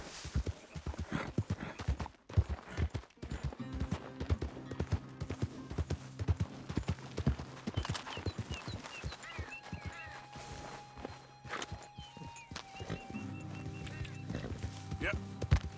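Rapid clip-clop of horse hooves galloping in Red Dead Redemption 2, a steady close drumming across the whole stretch, with brief tonal game sounds and someone talking over it.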